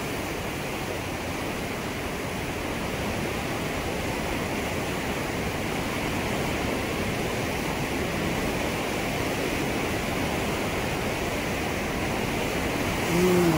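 Flowing river water at a water-level gauge on the route from Gangotri: a loud, steady, broadband rush that stays continuous and unbroken throughout, close and full with no pauses.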